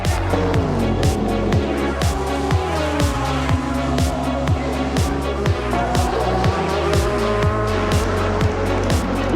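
Race cars at the 24 Hours of Le Mans roar past in a steady, loud stream, engines rising and dropping through repeated gear shifts, with the occasional tire squeal over the din.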